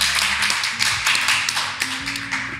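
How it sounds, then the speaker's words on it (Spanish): A studio audience clapping for a guest on a Chilean football talk show, a short burst of dense, steady applause over low background music, with no talking. "Aplausos, gente."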